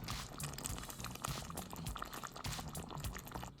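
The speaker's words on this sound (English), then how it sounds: "The curry's simmering away beautifully now" Beef rendang curry simmering in a pot on the stove, a steady dense bubbling and popping that stays close and constant throughout with no voices.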